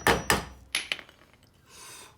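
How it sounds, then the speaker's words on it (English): Hammer taps on the dust cover of a jacked-up trailer's wheel bearing: two sharp metallic knocks close together, then two lighter taps and a faint scrape, all close and with no talk. "give her a bit of a tap with the hammer"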